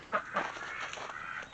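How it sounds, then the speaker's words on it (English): Ducks call in short, quiet bursts of quacking and clucking, a couple of sharp notes followed by softer chatter, somewhat distant and faint. "as you can hear, the ducks are at it again."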